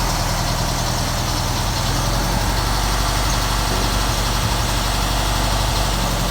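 An air-cooled car engine idles slightly high, continuously, with a low, even rumble and a faint rattling vibration, close by and without any talking.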